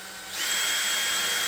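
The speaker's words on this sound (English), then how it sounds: "no pressure, let the drill do the work." A power drill spins up and bores a hole in a custom motorcycle workshop, rising from a soft start to a steady, loud, high whine.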